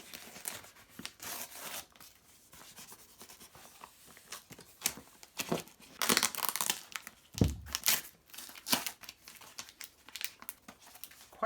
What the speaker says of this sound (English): Okay, so of course the letter ripped.